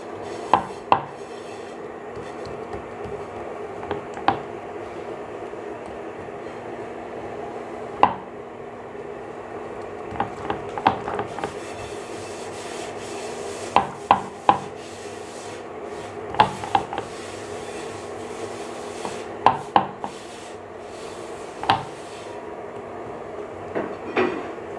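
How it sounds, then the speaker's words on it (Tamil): Parotta dough for Madurai bun parotta being spread thin across a flat surface, a steady soft rubbing and smearing texture broken by sharp slaps and taps at irregular intervals, close and fairly quiet, with no talking. "மாவு இதுமாரி நைஸாக பரப்பிக்கணும்."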